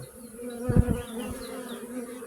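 Honeybees buzz at a hive showing signs of chronic bee paralysis virus, a steady close droning hum with a louder pass of wingbeats near the start, no talk.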